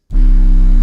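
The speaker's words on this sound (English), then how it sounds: "808 sounds like this." A single 808 bass note from an FL Studio trap beat booms in after a brief silence and holds loud and steady, deep and sustained with no other sounds.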